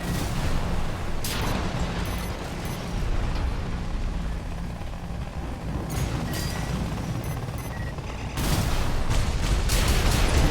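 Missiles launched from an armored mech in Armored Core, heavy rumbling rocket fire and booming impacts with sharp bursts recurring every few seconds over a constant roar of combat.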